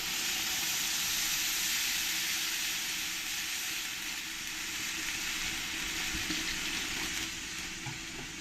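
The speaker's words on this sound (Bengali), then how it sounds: "সবজিগুলো আমি ভালো করে ভেজে নিয়েছি এবার আমি জল দিয়ে দেবো" Water hitting hot frying mixed vegetables in a pan gives a loud, continuous hissing rush of steam and sizzle that fills the whole stretch, steady and close with no speech.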